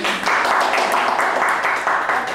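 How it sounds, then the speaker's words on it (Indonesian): A crowd claps steadily for a couple of seconds, a dense, even patter of many hands at moderate loudness. "Keren banget, tepuk tangan dulu"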